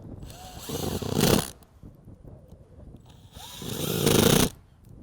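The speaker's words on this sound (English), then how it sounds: "Set the 2 screws in place, drive those in." A power driver sinks two screws into mounting pads during a solar collector install, making two loud whirring bursts about three seconds apart, close by, with quieter handling noise between them.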